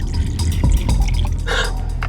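Water pours and trickles into a glass in a restaurant, a close, steady splashing with some drip-like bursts and no speech.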